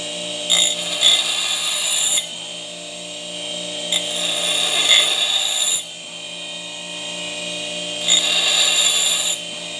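A meat grinder blade is sharpened on a grinding wheel, giving a steady whirring hum broken by three or four longer bursts of bright grinding as the blade is pressed to the stone.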